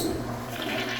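A toilet flushing, its rush of water steady and fairly loud throughout with no voices, as the bowl and reservoir are emptied for cleaning.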